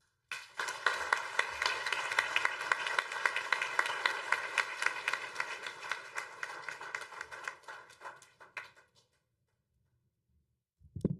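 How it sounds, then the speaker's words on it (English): Audience applause at a summit opening ceremony, a dense, steady clapping from a crowd that thins out and stops after about nine seconds. "let us give them another rousing round of applause"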